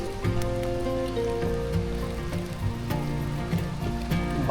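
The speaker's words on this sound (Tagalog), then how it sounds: "Umuulan na." Steady rain pattering on a surface during a bike ride near Caliraya Lake, a constant wash of droplets with a low engine-like hum and faint tonal noise running underneath.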